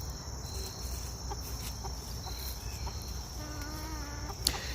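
Three backyard chickens in a coop give soft clucks amid a steady chorus of crickets and insects, with a brief harmonic call near the end and a sharp click just after.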